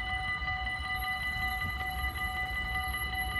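A passing train in Sint Joost, its steady broad rumble and rolling noise filling the scene close by, with sustained high tonal whine and squeal lines running throughout.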